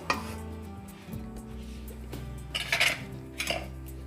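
Metal masher knocking and scraping against a pot, a few rhythmic clanks and squelches as soft cooked vegetables are mashed for paneer masala gravy.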